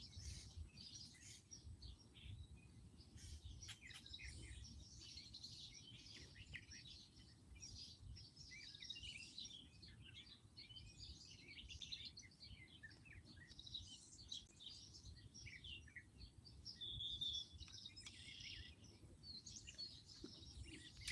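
Faint birdsong outdoors, with scattered chirps and tweets continuing throughout over a low background rumble, distant and quiet.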